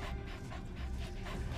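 D-Dog, the canine companion in Metal Gear Solid V: The Phantom Pain, pants steadily and rhythmically up close, a continuous breathy huffing over a low game-world rumble.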